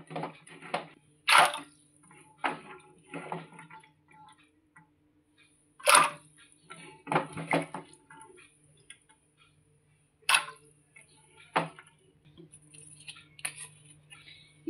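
Water is poured in short, separate bursts into a pressure cooker holding soaked chickpeas, each a quick splash with quiet gaps and small drips between, recorded close.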